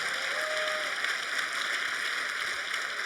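A congregation applauds during a church service, a dense, steady patter of many hands clapping together, heard from a distance and sustained without break for about three seconds.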